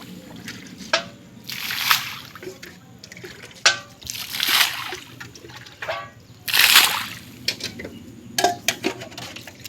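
Cloudy water from a tank of dead fish poured out in several splashing bursts onto grass and soil outdoors, with voices talking in the background between pours.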